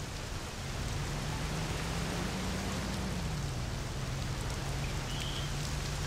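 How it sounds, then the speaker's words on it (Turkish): Steady rain pours down around a car being driven in the Mafia video game, a continuous hiss of drops with a low, shifting engine drone underneath and no talking. "Yağmurlu havada araba sürmek böyle şeydir."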